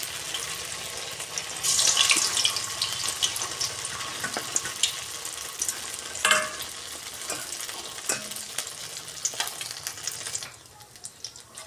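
Steady crackling sizzle of maida dough pieces frying in hot oil in a wok, fairly close, with occasional soft clinks and a brief louder burst before fading near the end.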